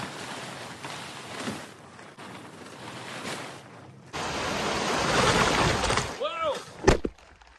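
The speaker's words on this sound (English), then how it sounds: "See how much water's come out." Water drains and splashes out of a 1967 StarCraft boat, a soft rushing flow that swells louder midway before some gurgles and a knock; faint voices are present.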